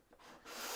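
Light sanding on the feet of a wooden trinket box makes a brief soft rubbing, two short abrasive strokes close by, the second longer and brighter, with no voice.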